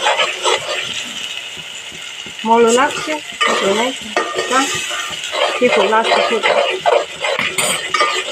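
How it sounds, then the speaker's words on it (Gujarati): Paneer is stirred into a sizzling gravy in a pan, with a spoon scraping and clinking against the metal in irregular strokes while a voice talks over the cooking sounds. "ગ્રેવી તૈયાર થઈ ગઈ છે તો બસ પનીર નાખવાનું છે ખાલી"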